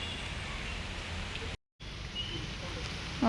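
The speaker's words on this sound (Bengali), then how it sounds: "কেমন বৃষ্টি পড়ছে দেখো" Steady rain falling outdoors in Bolpur, Santiniketan, near a temple, a dense hiss filling the scene with a brief dropout midway.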